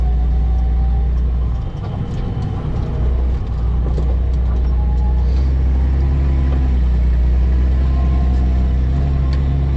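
Tractor engine running with a loud, steady low rumble and mechanical rattling throughout, heard close up and continuous, with no speech.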